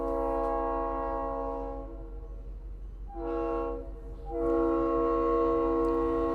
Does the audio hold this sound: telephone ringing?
no